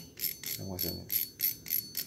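Rapid, evenly spaced ratcheting clicks of a fishing reel drag with an aluminium spool repeat in a quick rhythm, close and fairly quiet, with a brief low murmur midway.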